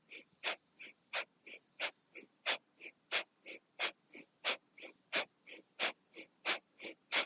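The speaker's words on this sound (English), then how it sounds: "And if you can, we're going to do breath of fire." Rapid rhythmic yoga breath of fire, sharp forceful exhales pumped in a steady fast series of about twenty close, loud puffs with no talking.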